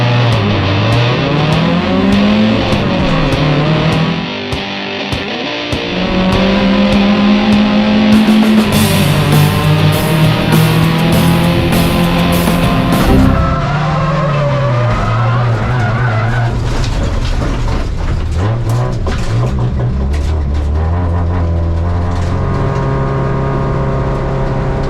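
Hyundai Excel race cars racing at The Bend Motorsport Park, an engine revving loud and close through rising and falling gear changes, with tire skids and other cars passing, no talking.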